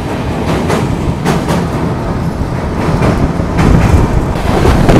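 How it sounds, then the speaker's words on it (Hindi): Mahabodhi Express train rolling past Ghaziabad Junction railway station, a steady broadband rumble of wheels and carriages with repeated rail-joint clatter, loud and continuous throughout. "यहाँ पर अभी अपनी महाबोधि एक्सप्रेस स्किप करने वाली है गाजियाबाद जंक्शन रेलवे स्टेशन को"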